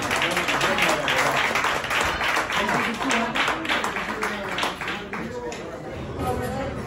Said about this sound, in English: Give a round of applause for Enrique and Eduardo.